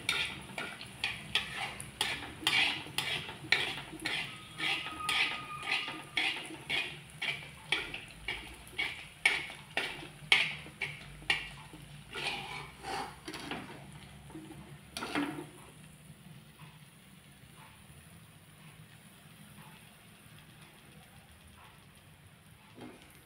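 Poppy seeds stirred in hot oil in a pan, a steady run of close scraping strokes over a soft sizzle for about fifteen seconds, then only the quiet frying hiss carries on alone.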